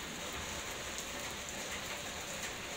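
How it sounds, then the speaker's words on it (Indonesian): Steady rain falling, a dense even hiss of drops close by with no break and no voices, during a downpour that forced a stop for shelter. "Harinya hujan"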